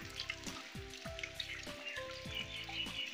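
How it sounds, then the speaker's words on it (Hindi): Heavy rain falls steadily in a dense, continuous patter, loud and close, with no voices over it. "कितनी बारिश हो रही है"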